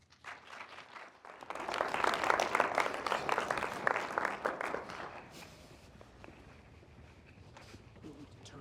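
Lecture-hall audience warmly applauding a guest speaker being introduced, the clapping swelling after a second, holding strong, then thinning out toward the end.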